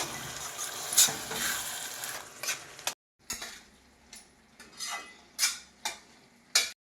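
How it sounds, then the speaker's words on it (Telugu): Tomato paste fries with ginger garlic in a pan for Nellore fish curry, a hissing sizzle broken by a brief pause, then spoon stirs and scrapes at intervals, close and clear with no talk. "పచ్చివాసన పోయేంత వరకు చక్కగా వేపుకుందాము"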